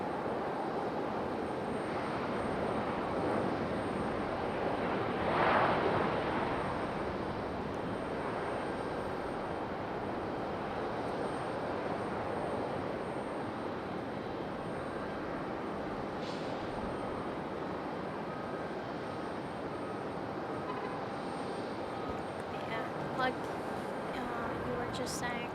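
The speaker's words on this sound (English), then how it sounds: "But Sun Country touching down." A Sun Country airliner touching down at Raleigh-Durham airport, a distant, steady broadband jet roar that holds for the full stretch with faint swells and no clear peak.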